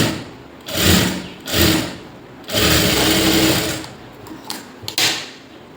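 A sewing machine stitches over the bias binding of a lined blouse in several loud, close bursts of rapid whirring, with short pauses between runs.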